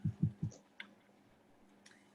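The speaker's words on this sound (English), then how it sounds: "let Sarah finish typing." Keyboard typing at a Texas State Board of Examiners of Marriage and Family Therapists meeting: a quick burst of three soft key clicks, then a few scattered taps, faint and close against room hum.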